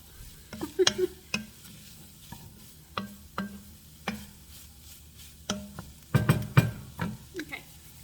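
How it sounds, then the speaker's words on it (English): Garlic sizzling in a hot pan for chicken and wild rice soup, a low steady hiss broken by a series of sharp spoon scrapes and taps, close by. "I just love when the garlic hits the heat and you can smell it"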